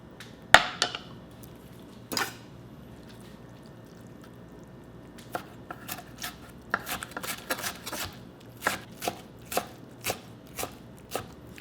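A knife chops sour, two-week-fermented kimchi into small pieces on a board, starting with a few isolated sharp chops and then settling into a steady run of crisp, evenly spaced strikes close by.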